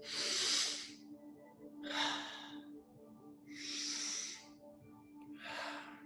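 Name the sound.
deep belly breathing, inhaling and exhaling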